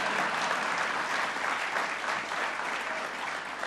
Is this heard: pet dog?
no